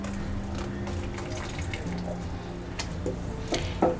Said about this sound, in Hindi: मिक्सी के बर्तन में थोड़ा सा पानी डालेंगे